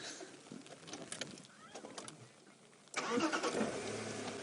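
A safari vehicle's engine cranks and starts on a morning game drive in the African bush. It turns over with a sudden loud rise into a rough, close idle after quieter outdoor background sounds.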